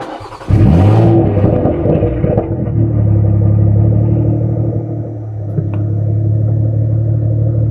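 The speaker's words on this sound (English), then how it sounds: "Now let's turn on the engine" A BMW M340i with the B58 engine, tuned to Stage 3, cranks and fires with a sharp flare of revs, then drops into a deep, steady idle rumble that stays close and loud.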